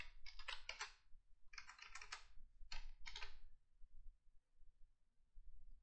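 Bursts of quick clicking keystrokes on a computer keyboard as a phone number for an Orange SIM card is entered, three clustered runs with short pauses, close and fairly quiet, no talking.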